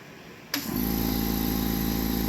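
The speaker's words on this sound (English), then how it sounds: "to start this compressor" An air compressor kicks on abruptly while powered by a Powerwall inverter, alongside a 1500 watt heater, and settles into a steady, loud mechanical hum and whine that continues alone.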